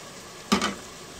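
Stewed mixture with cream and tomato poured into a hot pan for ground-beef enchiladas, giving a brief, close burst of sizzling that flares up for about a quarter second and then dies back to a quiet hiss.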